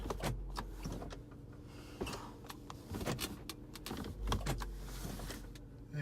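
Mechanical clicks and clunks from the gear shifter being moved in a 2003 Cadillac CTS after a shifter lockup and traction control fix, a series of sharp close knocks over a low idling hum, with no talking.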